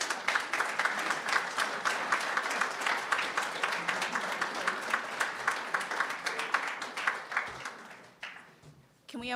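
A crowd at a Dr. Martin Luther King Jr. celebration claps steadily for the day's speakers, a dense, even patter of many hands that holds for several seconds before tapering off near the end.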